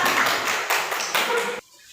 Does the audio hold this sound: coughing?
no